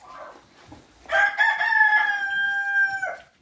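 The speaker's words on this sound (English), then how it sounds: "the roosters are telling me they want their breakfast" A rooster crows loudly and close by, one long drawn-out call lasting about two seconds, with faint farmyard noise before it.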